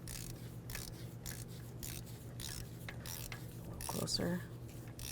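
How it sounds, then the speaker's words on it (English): A torque wrench ratchets as it tightens a spark plug on a 2007-12 Nissan Sentra, a close series of quick clicks over faint engine-bay hum, with a brief spoken remark. "let's go ahead and torque this to 14 foot-pounds"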